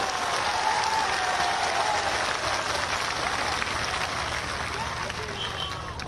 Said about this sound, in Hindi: एक बार हाथ उठाकर एयरफोर्स के जवानों के सम्मान में एक बार बहनों भाइयों तालियां बजाकर उनका स्वागत करें